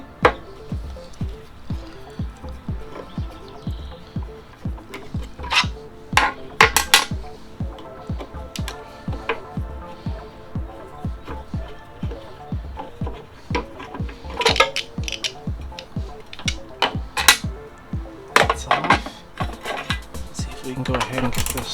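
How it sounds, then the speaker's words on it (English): A Phillips screwdriver backs screws out of a snowblower, giving a long run of close, rapid metallic clicks and ratcheting ticks with occasional sharper clanks and some faint talk. "So we're going to go ahead and get these screws out of here."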